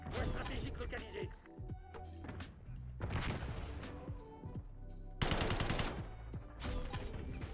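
Rapid bursts of automatic gunfire and shots from the video game Black Ops 6 come in loud clustered volleys with brief gaps.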